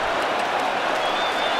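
A basketball arena crowd roars to spur on Damian Lillard during a game against the Warriors: a dense, steady wall of cheering and clapping that fills the whole moment.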